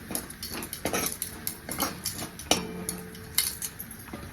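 A metal spoon stirs turmeric into hot oil in a pan, giving quick, irregular clinks and scrapes against the metal, close and fairly loud.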